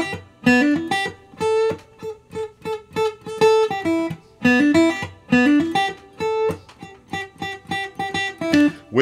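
Guitar plays the verse riff of Talking Heads' This Must Be the Place (Naive Melody), a bright, rhythmic pattern of picked notes repeating over about nine seconds, close and clear with no talking.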